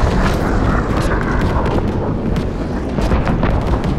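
A damaged warplane engine failing in Call of Duty WWII air combat, a loud continuous roar of rumbling, sputtering noise with bursts and crackles.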